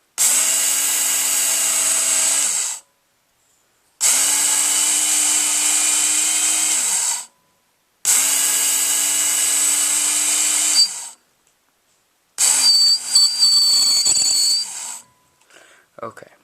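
A Work Sharp knife sharpener grinding a knife blade, three loud, even whining bursts of about three seconds each separated by short silences, then a rougher, uneven final pass that trails off.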